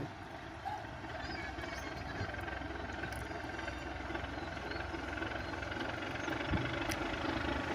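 A large ship's engine runs with a low, steady rumble while the vessel turns and moves ahead, a continuous drone at moderate distance with faint background sounds.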